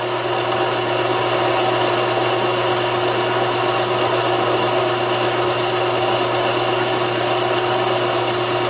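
Small Taig lathe turning metal for a tailstock handwheel handle, a continuous loud motor hum with a steady grinding, hissing cut, unbroken and without voices.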